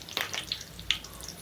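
Curry leaves dropped into hot tempering oil for a greens sambar, giving a faint, brief crackling sizzle with a few sharp pops over a quiet hiss.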